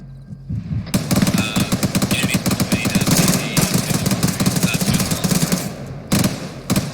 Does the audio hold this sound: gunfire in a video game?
yes